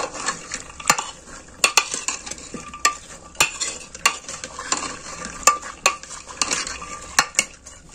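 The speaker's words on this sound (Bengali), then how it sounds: "এবার আমি এই নুন হলুদটা এই আলুর সাথে মিশিয়ে নিচ্ছি।" Salt and turmeric being mixed into potatoes with water in a pan for ghugni, a spoon scraping and clinking against the metal in irregular sharp taps over a faint sizzle, close and fairly loud.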